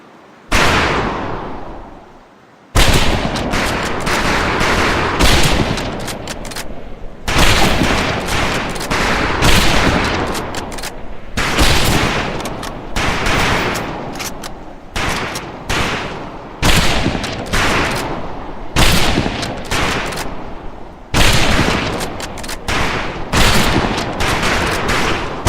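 Rifle range gunfire in Medal of Honor Pacific Assault, a training course shot from standing, kneeling and prone positions: loud, continuous volleys of rifle shots crack in rapid, overlapping bursts after a brief quiet opening, with no pauses.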